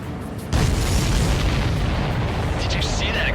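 A supply ship blows up in the video game Ace Combat 7. A loud boom erupts abruptly and rolls on as a dense, sustained rumble, with a voice faintly audible near the end.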